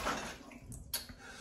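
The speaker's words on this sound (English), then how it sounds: "Wash my hands a quick little wash." Hands get a quick wash under a steady stream of running tap water in a home kitchen, a soft continuous splash with a brief stronger gush near the end, no talking.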